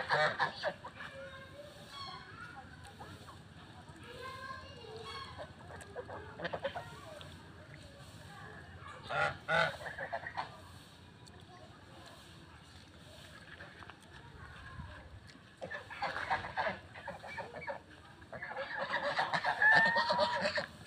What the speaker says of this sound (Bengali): এরা পানির নিচে পেক খাচ্ছে, হাঁসেরা পানির নিচে পেক খায়।